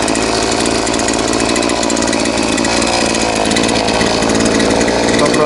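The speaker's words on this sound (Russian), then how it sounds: "Дальше пилить стану, и меня прижмет." Chainsaw cutting through fallen trees jammed across a river, a loud continuous high-revving whine held for the whole stretch, close and steady.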